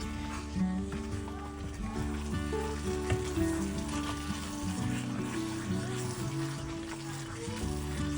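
Cashew chicken gravy stirred in a pan gives a low, steady sizzle and bubbling under continuous background music, with soft scraping now and then.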